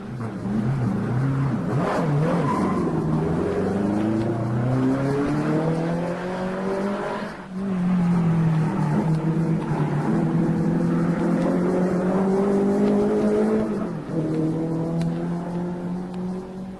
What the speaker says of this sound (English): Hawthorne on a Ferrari, sounding like this when he beat the Germans at Barcelona